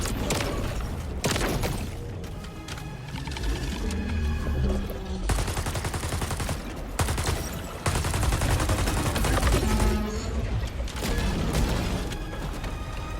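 Sustained bursts of assault rifle fire from a grenade-launcher-equipped AR in the video game Helldivers 2, aimed at tripod enemies, with loud rapid rattling volleys, brief pauses between strings, and thumping impacts and booms layered throughout.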